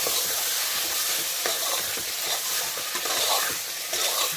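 Mutton tipped into a hot pot for curry sizzles loudly as it's stirred, a dense continuous frying hiss with scraping throughout.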